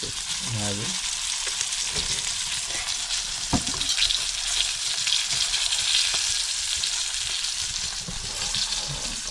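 Fish frying in a pan of hot oil, a continuous loud crackling sizzle with a few knocks and clanks as pieces are flipped, close up and without talk.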